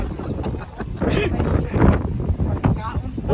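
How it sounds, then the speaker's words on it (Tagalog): Gusty wind buffets the microphone in rising and falling bursts, with indistinct voices faintly mixed into the roar. "Oo, napakahangin. Ayan, narinig niyo ba yung hangin?"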